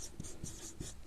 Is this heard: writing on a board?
yes